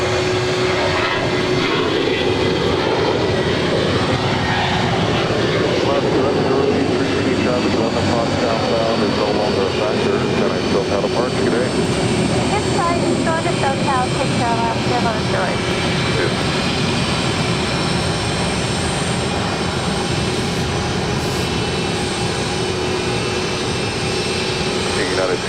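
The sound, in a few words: Nippon Cargo Airlines Boeing 747 taxiing at LAX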